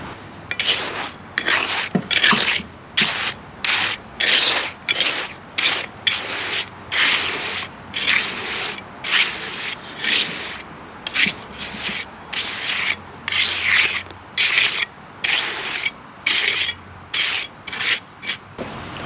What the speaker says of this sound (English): we're just going to use a little 5-inch triangular trowel. I find is the best to be able to tuck it in nicely